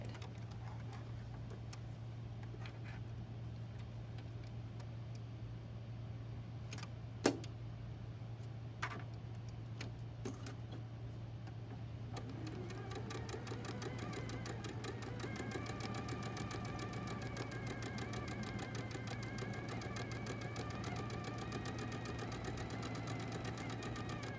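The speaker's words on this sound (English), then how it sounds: "Now I have to sew down the other side." Sewing machine stitching down a side of fabric, a quiet steady whirring run starting about halfway through over a constant low hum, with a couple of small clicks beforehand.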